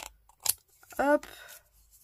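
Scissors snip a paper scrapbook embellishment with two quick, close cuts. Someone speaks briefly between the snips.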